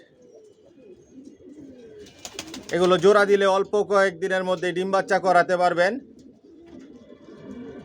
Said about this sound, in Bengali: এখানে যে কবুতরগুলো দেখতেছেন এগুলো সব অ্যাডাল কবুতর